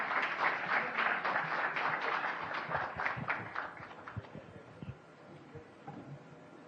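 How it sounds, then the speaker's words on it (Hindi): A crowd at an outdoor event in Delhi applauds for the chief minister, a dense burst of clapping that thins into scattered individual claps and fades. "एक बार जोरदार तालियां"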